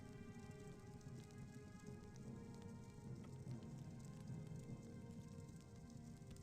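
Steady rain falls in the game Morrowind, a soft, even hiss of drops pattering on surfaces that runs without a break and stays fairly faint, with no voices over it.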